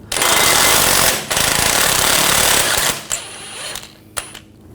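A loud, continuous pneumatic impact wrench hammers at a control arm bolt on a 2007-2013 BMW X5, running in two long bursts before falling to short clicks and clanks.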